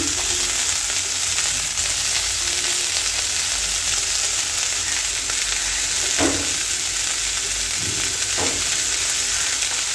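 Vegetables with chili and salt frying in a pan, a loud, steady sizzle throughout with a couple of brief stirring scrapes near the end.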